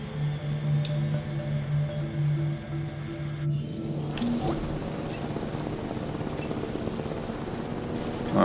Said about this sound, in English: Which now I have to wait for the helicopter to get back to release them.